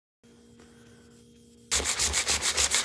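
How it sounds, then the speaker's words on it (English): Sanding on aluminum sheet: after a quiet hum, a loud, rhythmic scrubbing starts up close, with repeated back-and-forth strokes in quick succession. "sanded this side a little bit more so I can put a longer glue line on there"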